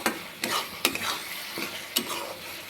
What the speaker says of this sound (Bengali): মশলাটাকে আমি খুব ভালো করে কষিয়ে নিয়েছি